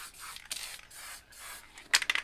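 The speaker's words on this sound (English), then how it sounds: "I'll go this way, spray it out a bit." Short hissing bursts of spray paint from an aerosol can onto a background around a stencil, several separate sprays with brief pauses, then quick rattling hisses at the end.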